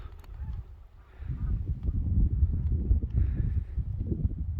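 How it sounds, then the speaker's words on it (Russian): Distant geese honk faintly in short bursts while flying over hunting grounds in northern Komi Republic, over a loud, steady low rumble of engine or wind noise. "пролеты гуся."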